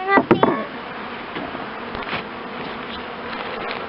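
Honey bees buzzing during a hive inspection, a continuous close drone of many insects with a few sharp knocks at the start.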